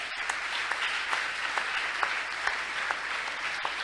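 An audience at a talk show claps steadily, a dense, even wash of applause with occasional sharper individual claps standing out.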